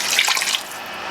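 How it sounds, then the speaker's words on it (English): A short splash of water poured into a pot of Ugandan groundnut stew, a bright, bubbly trickle lasting about a second before easing off. "you can add a little bit of water as well"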